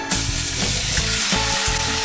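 Pork sears in grapeseed oil in a pan on medium-high heat, a loud, steady close sizzle with a rapid crackling spatter and no talking.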